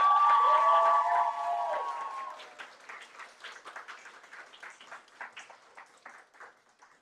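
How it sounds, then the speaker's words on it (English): Audience applause and cheering at a student network event in Ukraine: loud whoops and shouts ring out over clapping at first, then the cheering fades and scattered individual claps continue, thinning toward the end. "Huge round of applause for you."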